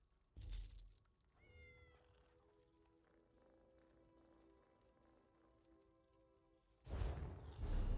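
A cat in a video game gives a single drawn-out meow, faint, with louder rustling bursts at the start and end.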